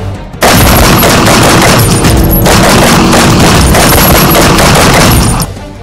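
Loud, dense bursts of gunfire crackle almost continuously for several seconds, close and overwhelming, with no voices, during a police encounter with a gangster.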